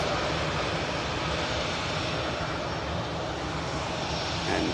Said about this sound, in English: We have a Logan Air ATR 72600. aircraft going to be making its way to Newquay as Flight 22.